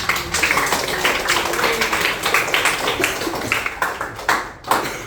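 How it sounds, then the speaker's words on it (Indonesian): Students in a classroom clap for themselves, a sustained ragged round of hand claps and taps lasting several seconds, close and lively, with a brief dip near the end before a final flurry. "tepuk tangan buat diri"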